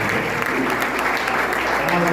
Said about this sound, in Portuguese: Você pode aplaudir pela vida da nossa irmã?